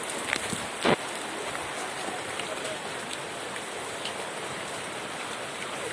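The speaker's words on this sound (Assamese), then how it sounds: "এয়া চাব পাৰে শিল এনেকৈ শিল আহিছে আজি" A dense, steady pelting of hail with rain pours down in Assam, with one sharper burst of impacts near the start and a constant hiss throughout.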